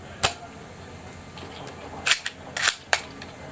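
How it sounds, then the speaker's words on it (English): Airsoft Lee Enfield No.4 bolt-action rifle by RWA/Viva Arms firing a few sharp, close snapping shots, one early and several later spaced a fraction of a second apart, over quiet background. "I'll just fire a few shots and then tell you what it feels like."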